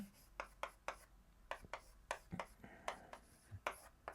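A Chinese character being written on a board in a lecture, with a series of short tapping, scratching strokes in an uneven rhythm, faint and close, with no talk.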